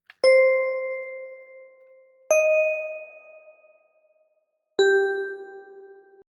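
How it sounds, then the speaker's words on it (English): Three synthesized bell tones in a produced beat ring out one after another, each a clear bright strike that rings and slowly decays before the next, with nothing else playing. "I added some bells because like bells, I mean, they just tie everything together."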